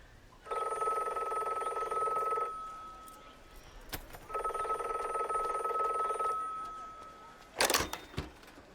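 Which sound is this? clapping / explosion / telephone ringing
telephone ringing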